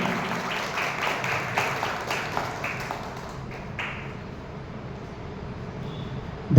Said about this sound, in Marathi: जोरदार टाळ्यांचा गजरात आपण यांचं स्वागत करायचं.